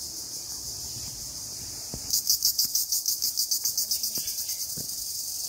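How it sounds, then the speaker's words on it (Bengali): Crickets chirp among trees in a Shariatpur village in late Falgun, early spring; a soft background trill swells after a couple of seconds into loud, rapid rhythmic pulses, with a few faint knocks underneath. "ফাল্গুনের শেষের দিকে শুরু হয় ঝিঝি পোকার ডাক।"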